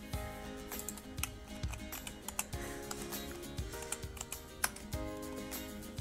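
Computer keyboard typing while a Cricut layered vinyl image is aligned in design software: quick irregular key clicks scattered through steady background music.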